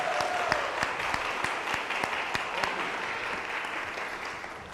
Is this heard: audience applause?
yes